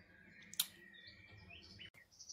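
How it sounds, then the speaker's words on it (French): Soft bird chirps and tweets in the background, with a faint trace of water, a sharp click near the start, over a quiet, low ambient hum. "toujours le fond sonore des oiseaux avec un petit peu d'eau"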